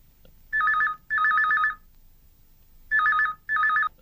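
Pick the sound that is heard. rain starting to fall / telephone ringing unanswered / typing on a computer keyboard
telephone ringing unanswered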